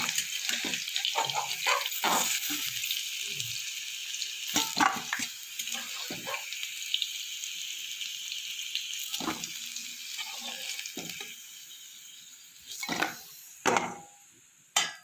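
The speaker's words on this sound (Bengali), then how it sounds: "এবার আমি কেটে রাখা ভেন্ডিগুলো ভেজে নেব" Cut okra (bhindi) fries in a pan for Bengali aloo bhindi, a quieter sizzle broken by frequent sharp clicks and scrapes of stirring, with a few louder spatters near the end.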